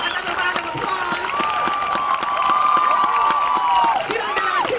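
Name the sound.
rally crowd applauding and cheering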